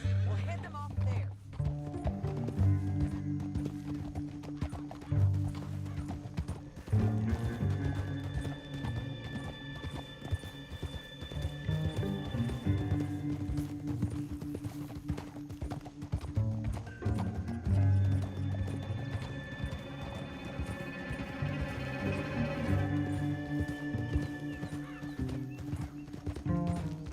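Horse hooves clip-clopping in the Red Dead Redemption 2 video game, a steady rhythmic trot continuing under game music and characters talking, with a whinny in places.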